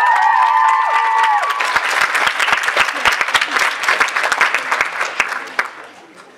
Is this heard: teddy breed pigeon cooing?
no